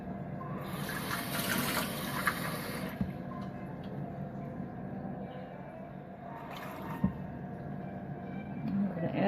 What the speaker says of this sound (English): in another bowl, we need to put another 4 cups of water